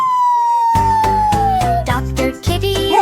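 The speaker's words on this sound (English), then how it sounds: "Just siren sound." A police-style siren wails in a short cartoon farm song, its high tone gliding downward while a bouncy rhythmic musical backing pulses beneath it, loud and close.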